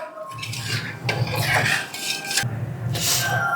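A spoon scrapes and clinks around a bowl as sugar and water are stirred for a sweet syrup, continuous close swishing with metallic taps and brief pauses.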